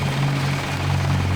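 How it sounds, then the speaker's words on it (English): A black helicopter in the video game Deus Ex gives a steady, droning rotor hum with a low, throbbing pulse, holding at even loudness throughout with no voices. "Ooh, a black helicopter."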